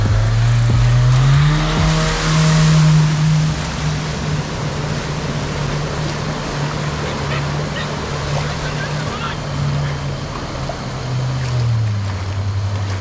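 A modified 2020 Mahindra Thar crossing a small river holds a loud, steady engine drone that rises at first and then sustains, with water rushing and splashing throughout at close range.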